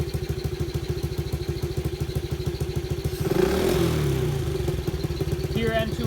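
A $50 pocket bike engine idles with a rapid, steady putter, then a loud rushing hiss of a nitrous oxide purge bursts in for about a second and fades back to the idling chug, close to the microphone.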